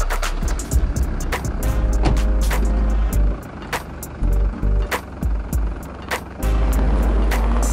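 A VAZ Lada car pulling away with a swivel-arm dolly trailer hitched behind, its engine rumbling loud and close with a steady low drone and intermittent rattles and clunks from the trailer.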